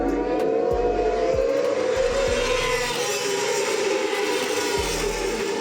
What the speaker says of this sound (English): the noise of over 40 bikes passing by, revving up all the way, was just absolutely magical.